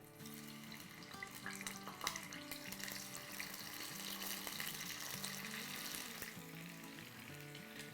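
Small chopped eggplant pieces frying in oil in a pot, a steady crackling sizzle that holds for several seconds with faint stirring clatter and no talking.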